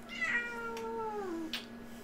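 A house cat meows close by in a quiet room, one long drawn-out meow with a falling pitch, accompanied by a steady low electrical hum and a couple of soft clicks.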